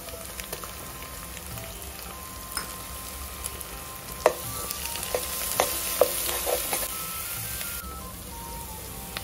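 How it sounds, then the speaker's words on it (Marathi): Masala of ginger, garlic and coconut sautés in oil for chole, a soft, steady sizzle punctuated by scattered clicks and scrapes of stirring, with no talking. "छान आपला मसाला परतला आहे, बाजूने तेल सुटलं आहे"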